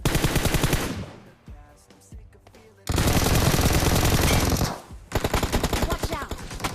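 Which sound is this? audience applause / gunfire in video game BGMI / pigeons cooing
gunfire in video game BGMI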